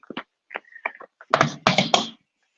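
Abraham-Hicks cards being shuffled by hand: a few soft taps and flicks, then two or three louder riffling bursts close up, with no talking.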